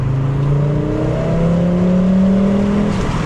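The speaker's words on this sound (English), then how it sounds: "Engine noise," Volvo 850 GLT engine revving under load, a steady continuous drone with rising harmonics as revs climb, close and loud throughout with no talk.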